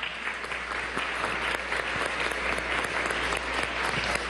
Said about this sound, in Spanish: Un aplauso, bienvenido señor Juan Carlos.